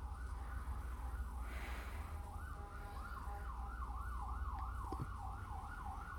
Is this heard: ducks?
no